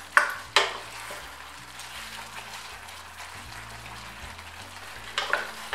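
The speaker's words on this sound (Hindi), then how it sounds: "बॉल्स को ग्रेवी के साथ हम कुछ सेकंड के लिए अच्छे से मिक्स कर लेंगे।" Veg Manchurian balls are tossed with gravy in a pan under a soft, steady sizzle, with sharp clinks of a utensil against the pan at the start and again near the end.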